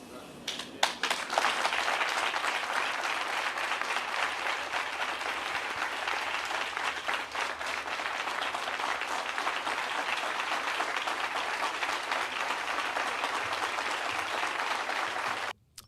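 Audience hand claps, a steady, loud, continuous burst of applause sustained for about sixteen seconds without pause.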